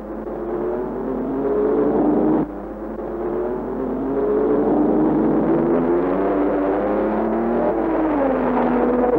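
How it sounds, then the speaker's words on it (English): Race cars circulating at the Le Mans race, a loud sustained engine drone with shifting pitch as cars rev and pass, heard without voices. "The cars keep circulating."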